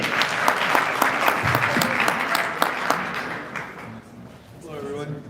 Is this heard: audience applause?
yes